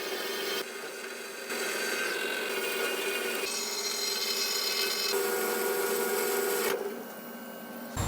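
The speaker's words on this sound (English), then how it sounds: "let's cut it off on the big saw" Steel stock for a blacksmith's post vise stand being cut on a big saw, a continuous grinding, rasping whine that shifts in tone as the blade works through the metal, close and steady with brief pauses.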